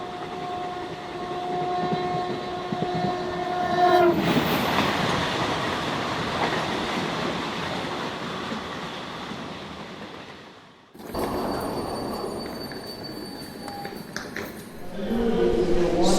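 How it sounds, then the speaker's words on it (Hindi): A passenger train running from Bokaro station toward Kharagpur rumbles loudly and steadily at close range, with a sustained horn-like tone early on, a sudden dip around eleven seconds, then renewed clattering noise with whistling tones. "अगले दिन पुणे में ट्रेन पकड़ता हूँ बोकारो स्टेशन से खड़गपुर के लिए"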